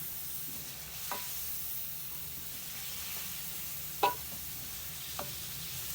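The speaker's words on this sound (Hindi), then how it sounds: "2 टेबल स्पून लहसुन अदरक का पेस्ट। दो मिनट इसकी बुनाई करेंगे इसके साथ।" Garlic ginger paste frying in a pot, a steady low sizzle with a few sharp stirring scrapes, the loudest near the middle, no voices.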